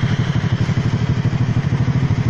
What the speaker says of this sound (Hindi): बहुत मेहनत मशक्क़त के बाद आज निकाला है बाइक